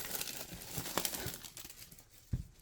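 Crinkling and tearing of Pokemon card box packaging being opened with scissors, a run of close, fairly quiet rustles and crackles with a couple of sharper snaps.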